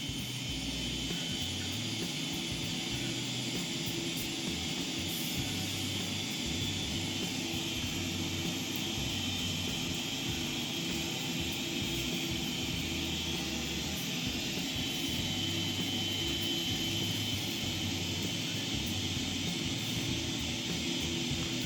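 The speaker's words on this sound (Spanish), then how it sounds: "Ahí está el arranque del motor." A Boeing 777 engine spins up in the PMDG flight simulator, a steady, even jet roar and whine that holds for over twenty seconds with no speech.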